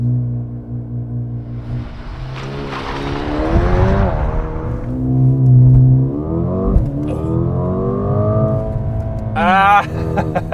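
A 2022 Mercedes-AMG CLA35 launches from a race start with a loud engine note that climbs steadily in pitch, then drops briefly at an upshift and climbs again, with a higher whine near the end.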